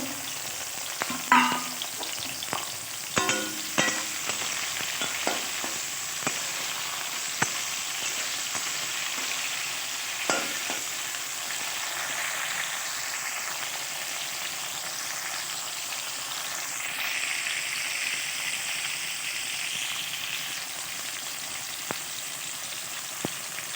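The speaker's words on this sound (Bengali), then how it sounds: "উচ্ছেগুলো আগে লাল লাল করে ভেজে নামিয়ে নেব।" Bitter gourd pieces fry in a pan with a steady, fairly quiet sizzle, broken early on by a cluster of clinks and stirring knocks and then a few scattered taps, with no voices.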